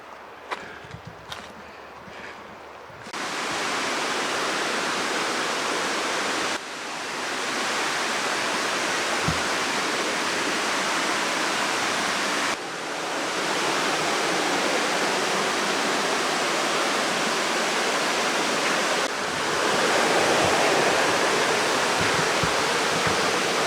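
A stream runs high, its water rushing as a dense, steady roar, with brief handling bumps at the start before the flow grows louder and fills everything.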